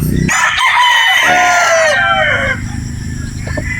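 A gamefowl rooster, a white sweater-Boston cross, crows loudly and close in one long drawn-out call, followed by quieter farmyard background.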